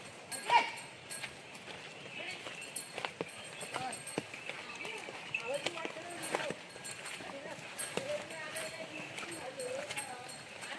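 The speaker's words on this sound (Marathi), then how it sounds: "तर आता बैल धुवायला घेऊन चाललेत" Bullocks being led to a wash during rainy-season rice planting in rural Konkan, their hooves clopping in an uneven walking rhythm at close to moderate range, with voices talking over the steps.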